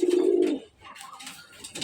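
Pigeons cooing in a cage, a loud low throaty coo in the first half-second followed by softer, fainter cooing and rustling.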